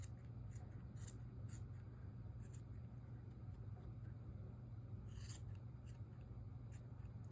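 Scissors trim the fringe of a checkered criss-cross braided knitted scarf, giving quiet, crisp snips in an uneven run, with a close cluster near the end over a low steady background hum.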